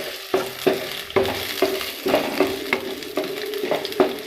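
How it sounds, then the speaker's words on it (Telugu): Onions and green chillies fry in hot oil with a continuous sizzle, broken by a regular rhythm of spatula strokes against the pan, close and fairly loud. "వీటిని నూనెలో బాగా వేగనివ్వాలండి"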